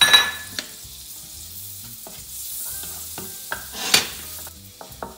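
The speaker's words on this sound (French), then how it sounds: "Et on va faire frire nos croûtons." Croutons fry in butter, sizzling steadily in a pan while a utensil stirs and scrapes, with occasional louder crackles and no voices.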